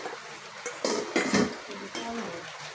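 Cooked fish going into a pot of taro stolons, with metal clatter and a utensil scraping and stirring against the pot, close, in a cluster of bangs in the middle of the clip.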